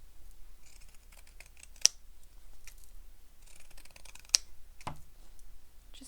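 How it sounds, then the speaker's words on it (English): Pinking shears trimming fabric for a messenger bag, a few soft close snips and clicks with two sharper cuts standing out against a quiet room. "I'll use my pinking shears for that."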